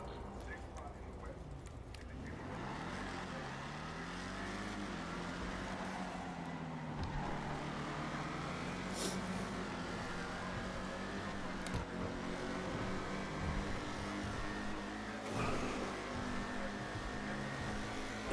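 Car driving in the video game GTA, an engine drone with steady road noise running throughout at moderate level, under a low music-like bed and occasional clicks.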